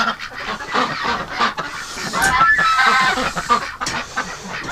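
Ducks and geese gabble and honk together at close range inside a warm winter shelter during extreme cold, a dense overlapping chorus of calls with no talking.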